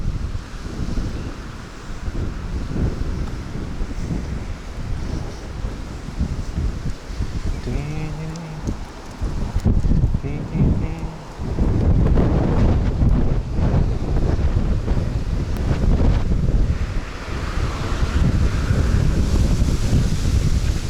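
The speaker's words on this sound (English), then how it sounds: "There's so much wind out here." Strong wind buffets the microphone at an outdoor flea market in Japan, a loud roaring rush that keeps surging and easing throughout, with faint voices and background noise underneath.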